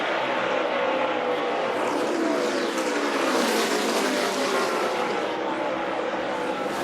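NASCAR Camping World Truck Series trucks race at Iowa Speedway in 2017, their engines roaring loud and continuous as the pack passes, with a rising and falling whine of several trucks battling close together.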